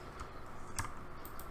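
Two or three quick keyboard key presses for a Control T shortcut, soft clicks close by against quiet room noise.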